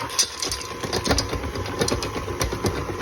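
A vintage 7.5-quart KitchenAid stand mixer, nearly 50 years old, mixes chocolate chips into a triple chocolate cake batter. It makes a steady close whirring motor hum with a rapid rhythmic clatter throughout.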